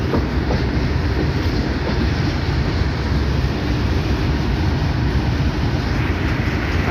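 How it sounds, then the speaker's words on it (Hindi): A freight train rolls past on an Indian railway line, a loud, steady rumble of wagons and wheels filling the whole stretch with no pause or voices. "और ये फ्रेट ट्रेन"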